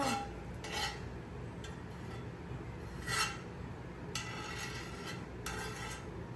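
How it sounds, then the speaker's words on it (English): A utensil scrapes across a pan while butter is spread around for a stovetop quesadilla, giving repeated short rasping strokes in an uneven rhythm, close and fairly quiet, with no talk. "Does that scraping sound not bother you?"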